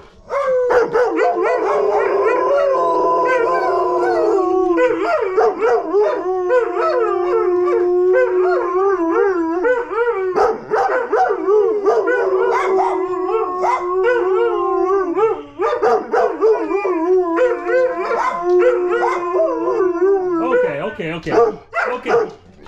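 A dog howls and yips repeatedly in long wavering cries, close and loud, with barking mixed in throughout.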